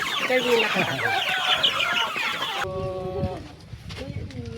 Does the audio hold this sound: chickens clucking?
yes